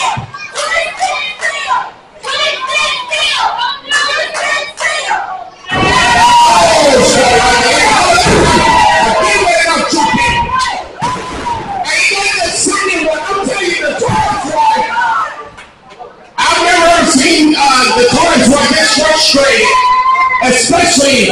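A wrestling crowd at an MCW tag team title event chants and yells in rhythmic bursts, then erupts into loud, sustained roaring cheers, dipping briefly before swelling again.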